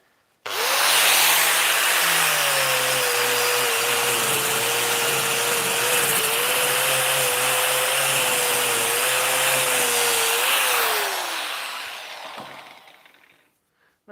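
Electric sander running steadily on wood at a shave horse, a loud continuous whirring hum with a sustained tone, spinning down and stopping near the end.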